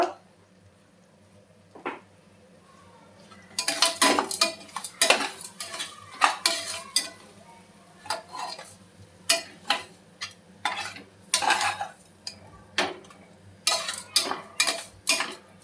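Cumin powder fried in a pan for egg pulav, with a faint sizzle under repeated metallic clinks and scrapes of a spoon stirring against the pan, coming in irregular bursts at close range.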